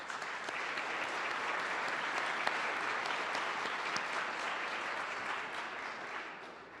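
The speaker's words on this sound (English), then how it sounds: "Please join me in a warm round of applause for all of them." A warm, sustained round of audience applause at a City Club forum, an even broad wash of many hands that holds steady and tapers slightly at the end, with no talk over it.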